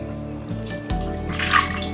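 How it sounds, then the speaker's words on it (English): Cold water pours from a tap into a pot to cover ribs and pork belly for smoking, a close splashing rush that starts after a brief pause and swells toward the end. "Right, so I want to add water, so it's going to cover the whole meat"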